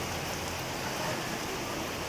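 Heavy rain falls steadily, a dense, even hiss of drops on surfaces that holds at a constant level throughout, with no voices over it.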